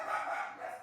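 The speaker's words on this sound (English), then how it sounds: "And of course, that's Frankie on the children's corner barking like crazy." A dog barking outdoors, one short, drawn-out bark heard at moderate loudness with nothing else around it.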